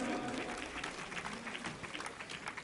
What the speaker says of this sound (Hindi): जोरदार तालियां बजाओ जरा उनके सम्मान में।